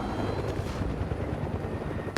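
A helicopter in Fortnite churns loudly and steadily throughout, a dense rotor and engine roar that fills the whole moment without speech.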